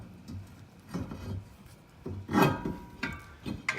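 A new brake part slides into place during a brake change on a Nissan 300ZX, giving soft scraping and rubbing metal sounds in short bursts. Two louder scuffs stand out near the middle.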